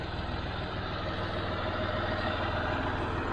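A Hesston open station tractor engine runs in a hay field on a cool, breezy day, a steady low throbbing drone with an even pulse, moderately close and unbroken.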